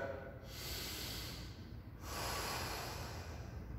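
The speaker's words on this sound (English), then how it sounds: "Can we open in our chest? Full breaths." Full, deep breaths taken during floor mobility work: two long, close, airy inhale-exhale cycles with a steady hiss, no talking.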